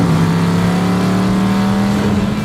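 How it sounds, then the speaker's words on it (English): Classic car with a 327 four-barrel V8 running, a loud close engine drone holding a steady pitch that rises slightly, with no talk. "And this is a great car. 327 4-barrel."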